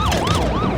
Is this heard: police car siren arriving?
yes